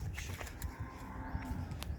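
A low, drawn-out moo from cattle nearby on a farm in Rahim Yar Khan, Pakistan, with faint clatter and outdoor noise in the background.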